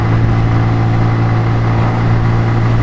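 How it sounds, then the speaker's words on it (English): Scooter engine running steadily while riding on an English road, a loud continuous low drone with a strong hum and constant rumble throughout, no voices. "I know it's a scooter, not a motorcycle,"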